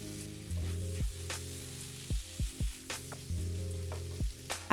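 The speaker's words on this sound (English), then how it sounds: "Pan fry the chunks until golden brown for about 7 minutes, mixing every few" Tofu chunks pan frying in a pan, a steady sizzle over faint background hum, broken by several short scraping stirs and clatters as the pieces are mixed.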